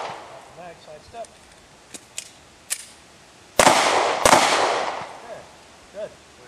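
Pistol shots ring out at an outdoor shooting range: two loud, close reports with long echoing tails, preceded by fainter sharp cracks from other shooters, while people talk between shots.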